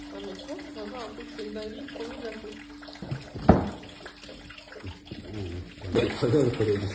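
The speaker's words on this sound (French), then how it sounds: "C'est une fontaine." Water splashing steadily in an outdoor fountain on a mountain outing, heard close by with people talking and calling over it and one louder splash midway.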